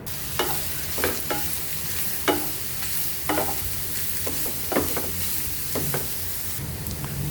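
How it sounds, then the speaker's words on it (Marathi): Grated carrots for gajar halwa are fried in ghee in a pan with raisins. A steady, bright sizzle runs throughout, broken by repeated scraping stir strokes of a spoon, close up and with no talking. "सो 1-2 मिनटासाठी आपण ह्या गाजराला मस्तपैकी तुपामध्ये फ्राय करून घेऊ"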